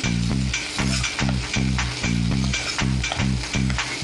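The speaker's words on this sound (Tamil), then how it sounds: "இப்போ வெங்காயம் போட்டுடலாம். நல்லா பச்சை வாசனை போகிற அளவுக்கு நம்ம வதக்கணும்." Onions sizzle in hot oil in a pan alongside urad dal for a Tamil egg and tomato poriyal. A loud, close, steady hiss rises and falls with a rhythmic pulse as the pan is stirred.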